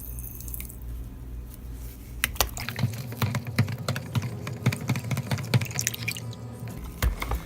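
Salt being stirred into 2 quarts of water for brine, with a spoon clinking and scraping rapidly in a rhythmic, close-up pattern after a brief pause at the start.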